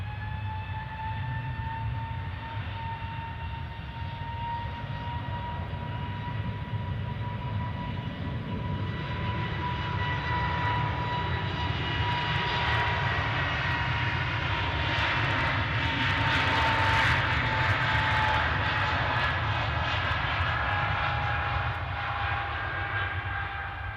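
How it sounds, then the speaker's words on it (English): At Glasgow Airport, a jet engine winds up into a sustained whine with rising tonal layers and a broad rushing roar, moderately distant, growing a little louder toward the middle before easing slightly, with no talk over it. "I love that wind-up sound."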